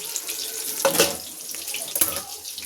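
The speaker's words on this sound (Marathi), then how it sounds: "गरम पाणी ओतून झाले मस्तपैकी." Hot water poured into a home-cooked chicken curry: a steady splashing pour with two louder surges, close by, with no talking.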